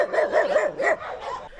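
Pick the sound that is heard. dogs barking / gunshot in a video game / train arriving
dogs barking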